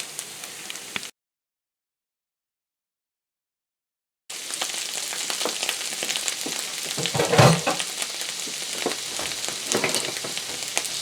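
Egg frying in a pan on a homestead kitchen stove, a steady close crackling sizzle that cuts out briefly near the start and then resumes loud and continuous with dense spitting pops, no voices.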